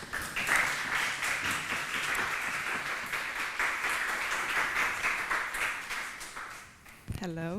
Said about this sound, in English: a warm applause to our guest tonight